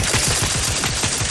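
Rapid automatic gunfire from The Outer Worlds 2 rattles in a dense, continuous burst of evenly spaced shots, loud and close throughout with no voices over it.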